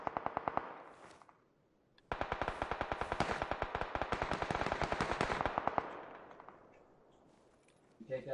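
Rapid bursts of automatic gunfire in PUBG on PS4, a short one then a long sustained stream, loud and close, with game-like echoes trailing off.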